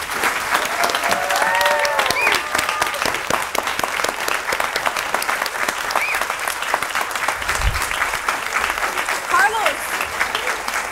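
Commencement audience gives a sustained round of applause, dense steady clapping from a large crowd filling the hall throughout, with a few scattered cheers and voices mixed in.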